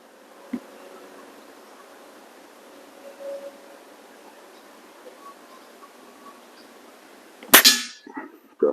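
A Weihrauch HW25 chrome-plated air rifle pellet strikes a small metal trap downrange with one sharp, bright clang, followed by a few faint rattles against a quiet outdoor background.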